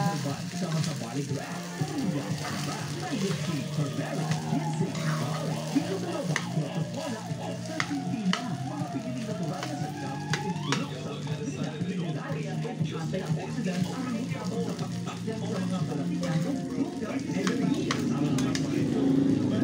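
Fried rice (sinangag) is stirred in a pan, a continuous close sizzle with scraping and tossing of rice, while a person talks over the cooking.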